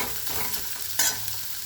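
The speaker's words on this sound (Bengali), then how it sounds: "সমস্ত পেঁয়াজগুলো দিয়ে দেবো, মশলা করে লাল লাল করে ভেজে নেবো" Onions frying with spices in a hot pan give a soft, steady sizzle, with brief stirring scrapes and one sharper hiss burst partway through; faint and close.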